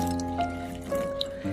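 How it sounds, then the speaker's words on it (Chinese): Clean water poured into a bowl of red dates to rinse them, giving a close gurgling, dripping splash with rising tonal ringing as the bowl fills, under faint background sounds. "然后倒入清水，把红枣清洗一下，把表面的灰尘清洗干净"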